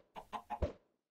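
Chickens clucking in the Minecraft video game: four short, clipped game-sound clucks in quick succession, the last one louder, with no talk over them.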